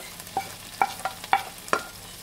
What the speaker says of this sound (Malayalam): ടൊമാറ്റോ പേസ്റ്റ് ഇട്ട് കൊടുക്കാം നന്നായിട്ടൊന്ന് ഇളക്കി കൊടുക്കാം